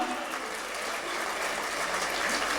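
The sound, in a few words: audience clapping at a poetry gathering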